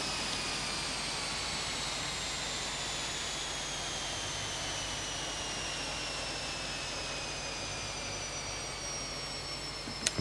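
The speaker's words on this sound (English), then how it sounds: "hear the lovely sound of that engine spooling down" The turboprop engine of an Epic E1000 spools down in a flight simulator game, a loud, steady turbine whine with tones slowly falling in pitch over a broad airy roar, heard alone.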